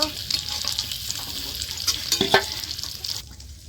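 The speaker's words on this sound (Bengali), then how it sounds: "হালকা লাল লাল করে আমি মাছ ভেজে নিচ্ছি" Fish fries in hot mustard oil until lightly browned, crackling and sizzling close by with scraping stirs and a few sharp clinks of a utensil against the pan.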